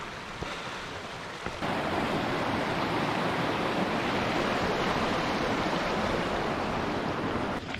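The River Derwent flows beside a fell path near Seathwaite, a steady broadband rush of moving water heard close and continuous throughout, with some wind noise and no talk.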